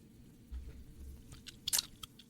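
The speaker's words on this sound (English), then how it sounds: "I was trying to not chew into the microphone." Gum being chewed close to a microphone, soft wet smacking with a few sharper clicks over low background hum, faint and brief.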